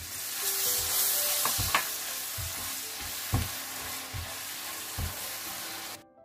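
Avocado pickle spices with wine vinegar sizzle softly in a pan while a spoon scrapes and stirs in several spaced knocks, faint and close, without speech.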